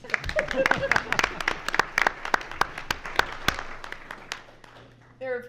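A small audience at a Burlington school board town hall claps in sparse, distinct strokes that thin out and stop, followed by a short burst of voices at the end.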